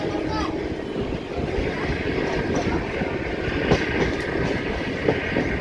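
A diesel locomotive hauls a train past on the Parbhani–Parli rail route in India, producing a loud, continuous rumble with rhythmic clickety-clack of wheels over rail joints and occasional sharper metallic knocks.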